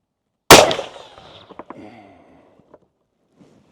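A single .458 Lott dangerous-game rifle shot fired from a shooting bench: one loud, sharp, close blast with a lingering decay, followed by a few faint mechanical clicks.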